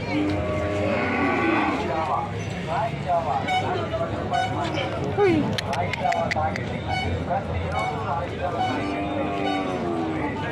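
A pair of bulls at the Gurazala cattle market: loud lowing moos rise over busy crowd chatter and occasional vehicle horns, with people talking nearby.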